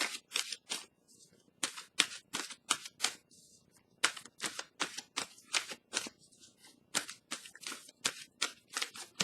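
Oracle cards being shuffled and handled, a run of sharp crisp riffling snaps and flicks in quick irregular bursts, close and fairly quiet with no talk.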